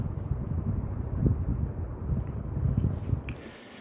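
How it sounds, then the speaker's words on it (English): Canarm Mota 42-inch ceiling fan pushing a strong downdraft, heard as steady low rumbling wind buffeting close to the microphone with no pauses. "Yeah, this fan moves a lot of air. Yeah, it makes wind noise."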